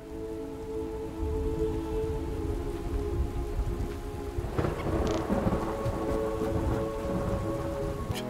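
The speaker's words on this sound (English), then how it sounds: "Mountain winds sweep in and rain." Heavy rain hisses steadily over an arid mountain desert as a deep rumble of thunder rolls in midway, loud and close, with the downpour continuing after it and no voices present.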